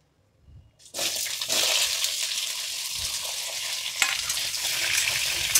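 Kadima pumpkin dropped into hot oil with a cooked tempering, bursting into loud, steady sizzling frying with stirring scrapes, close by and without talk after a quiet start.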